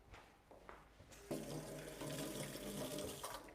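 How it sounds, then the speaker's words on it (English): A kitchen tap runs quietly while someone washes their hands, a soft hiss of flowing water that swells after a second and continues steadily, with no talking. "I'm just going to wash my hands for a sec."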